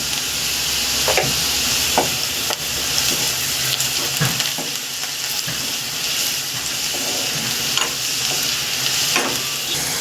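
Finely chopped onions fry in a pan for curry, a steady close sizzle with occasional stirring scrapes of the spoon, without speech.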